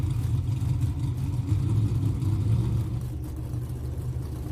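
Pro Stock drag race cars at an NHRA final run with a steady loud low engine roar that eases slightly toward the end.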